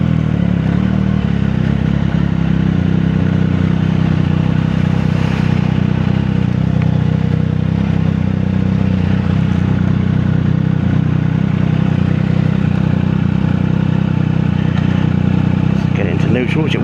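A Triumph Daytona 660 sports bike idles and rides at low speed, its engine a steady, loud, close drone with some clatter and no clear revving throughout.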